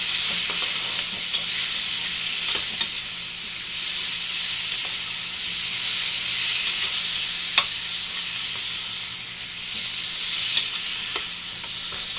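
Whole small brinjals sauté in hot oil in a pan for a Tamil mutton curry, giving a steady, moderately loud sizzle with occasional soft stirring clicks throughout.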